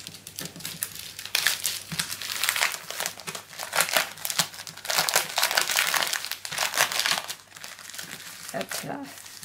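Paper pad packaging torn open and crinkled close by, a steady run of crisp rustling and crackling plastic with brief pauses, while someone speaks French over it.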